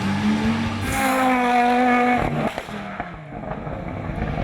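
An Audi Quattro S1 rally car runs on a stage at the San Marino Rally Legend, its engine note climbing loudly and close before cutting off abruptly, followed by rougher mechanical rumble and tyre noise.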